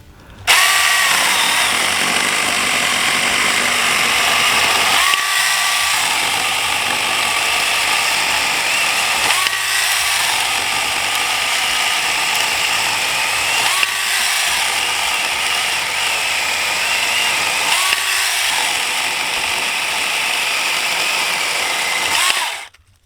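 Small cordless chainsaw cutting two-inch dry pine that has sat outdoors for about a year, a loud continuous buzzing motor running close by through several cuts, with brief dips in pitch between them.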